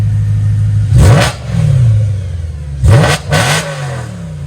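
A BMW M3 in power mode, MDM engaged, gives two sharp, loud throttle blips that rise and fall quickly, the second a quick double rev, echoing close by in an apartment complex with no voices.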